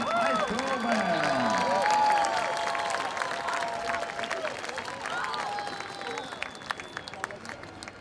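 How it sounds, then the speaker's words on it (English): Audience applause and cheering for a high school marching band at an area competition finals, a loud, sustained wash of clapping from a large crowd with scattered whoops, gradually thinning toward the end. "one more round of applause for the Sherman High School Band"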